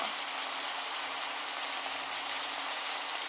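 Steady, even rain hisses without a break, a dense close wash of sound with no voices over it.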